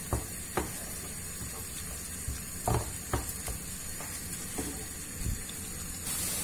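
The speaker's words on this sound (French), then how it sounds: "on laisse mijoter notre petite sauce pendant une dizaine de minutes" A small French sauce for cauliflower simmers in a pan, giving a steady soft sizzle and bubbling hiss broken by a few sharp clicks and taps, with no voices.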